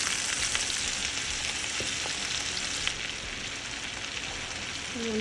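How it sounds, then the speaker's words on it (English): Butter melts and fries in a pan, making a continuous soft, hissing sizzle at moderate distance. A couple of faint taps are heard, with no voices. "I'm adding some butter"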